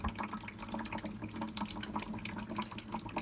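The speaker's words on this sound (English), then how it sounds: "So we're gonna drain this pipe" Water draining from a radon mitigation system pipe through a water trap, a continuous close splashing and trickling stream at steady volume with no talking.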